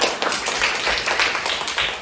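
Brisk clapping from a small group, fairly loud and continuous over a couple of seconds.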